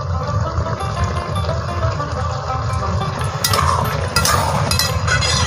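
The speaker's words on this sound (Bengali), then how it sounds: "মা নেড়ে মিশিয়ে নিচ্ছে।" Lau chingri, bottle gourd cooked with prawns and thickened with rice paste, is stirred in a pan, giving a steady soft scraping and bubbling with light metal clinks that grow brighter near the end.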